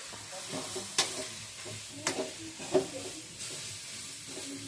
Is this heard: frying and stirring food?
yes